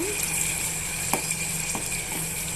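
Ginger garlic paste sizzles in a pan with a steady, soft frying hiss, punctuated by a few brief scraping ticks from stirring, close and fairly quiet.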